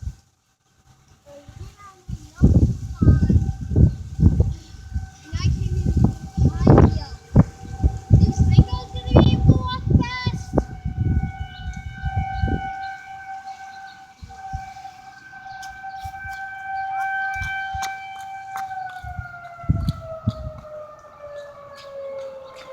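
Outdoor tornado siren during a weekly test, a rising, sustained wail that holds steady and then slides down, heard over people talking and a voice near the start.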